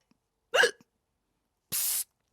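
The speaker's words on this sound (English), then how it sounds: "Oh, I've got to get rid of these hiccups!" A cartoon boy's hiccup, one sharp loud voiced hic followed after a pause by a breathy gasp or exhale, close and otherwise quiet.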